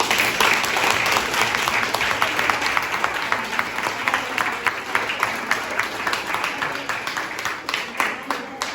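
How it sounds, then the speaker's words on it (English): Audience applause after a speaker award at an international student debate between two secondary schools: brisk, steady clapping from a modest crowd, fairly close, with individual claps distinct in a continuous patter that holds throughout. "I think she deserves applause"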